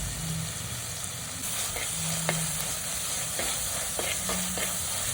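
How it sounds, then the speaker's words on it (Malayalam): Ginger, garlic, shallots, green chilies and curry leaves sauté in oil for Kerala fish curry, a steady close sizzle with intermittent scraping clicks of a spoon stirring the pan. "ഇഞ്ചി, വെളുത്തുള്ളി, ചെറിയുള്ളി പിന്നെ പച്ചമുളകും കൂടി ചേർത്ത് അതൊന്ന് നന്നായിട്ട് വഴറ്റിയെടുക്കാം."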